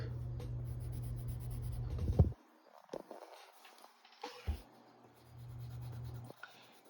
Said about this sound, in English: remember to use the side of your pencil or your crayon